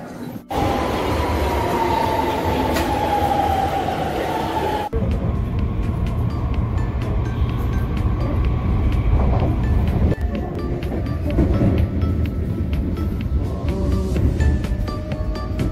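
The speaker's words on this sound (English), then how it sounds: "the best way to get there is to take the Keisei Skyliner express train" Keisei Skyliner express train running, heard from on board: a steady, loud rumble of wheels and motors with a rising whine early on, a sudden shift in tone partway through, and faint clatter throughout.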